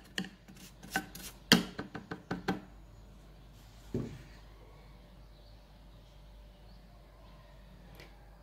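Ingredients for a lemon cake are crushed in the kitchen: a quick run of sharp, close pounding knocks, then a lone thud and a faint tap after a long quiet pause, with no speech.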